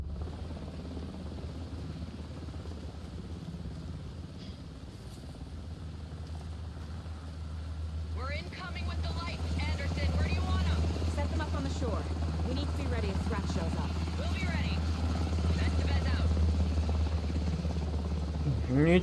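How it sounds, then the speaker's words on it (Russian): Helicopter in the video game Alan Wake 2: a steady low engine drone with rotor thrum that swells louder midway and carries on, joined by busy higher-pitched game sounds, with no clear talking. "Вертолет."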